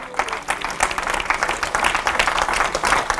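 Church congregation applauding, a dense burst of clapping from many hands that continues steadily for a few seconds and fills the room.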